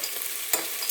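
A pepper, garlic and tomato mix sautés in a pan, giving a steady close hiss of frying with a brief stirring scrape near the middle and no talking.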